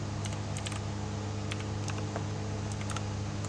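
Computer keyboard keys clatter in quick irregular bursts as a command is typed into a server console, close and crisp over a steady low hum.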